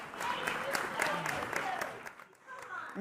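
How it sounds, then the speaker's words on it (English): A gala crowd applauds an auction winner, a soft, steady patter of many hands somewhat distant, with a voice speaking over it and the clapping fading near the end. "We'll give Kelly a big round of applause"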